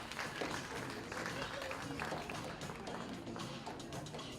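Steady crowd applause at a Green Bay police K9 demonstration event, honoring the K9 handlers; a dense, continuous wash of clapping that holds evenly throughout, with voices faintly mixed in.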